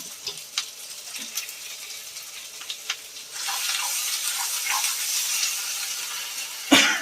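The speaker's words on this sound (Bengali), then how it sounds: "সামান্য জল দেবো" A little water goes into a hot pan of patol for a doi potol curry, so soft stirring and light clinks turn into a loud, steady close hiss of sizzling, with no talking.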